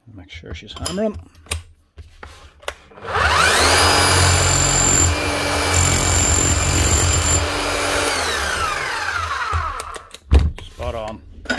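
A repaired Bosch rotary hammer runs for about seven seconds with a loud, steady whirring rattle, then spins down, with brief clicks and people talking just before and after.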